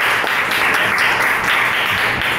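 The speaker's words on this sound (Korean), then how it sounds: "박수 한번 쳐주십시오." Audience applause during a lecture introducing a blockchain platform, a continuous, even wash of many hands clapping at close range with no pause.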